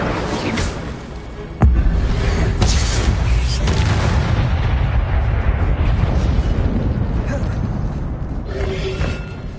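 A fire spell cast in Hogwarts Legacy goes off with a sudden loud boom and crackling burst, followed by sustained rumbling combat noise and further blasts.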